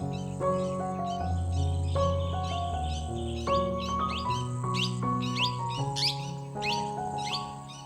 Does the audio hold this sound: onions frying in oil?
no